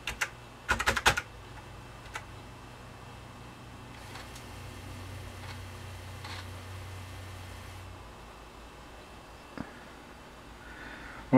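Typing on an Apple IIc computer keyboard: a quick cluster of sharp key clicks at the start, then only a few isolated taps over a faint, steady low hum.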